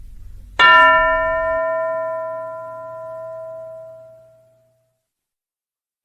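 A classroom bell is struck once over a low hum, and its bright ringing tone slowly decays over several seconds before falling silent.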